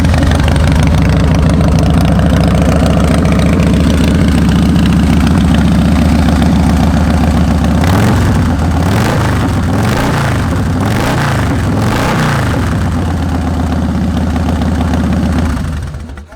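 A 2004 Harley Davidson Fat Boy with Python pipes, heard close and loud as a deep, uneven idle lopes steadily, then climbs into several short revs before settling back, with no voices.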